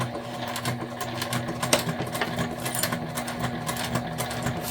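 A sewing machine stitching flat fabric for a Nightmare Before Christmas crossbody bag, running in a steady continuous whir with a faint motor hum throughout, close and moderately loud, with no talking.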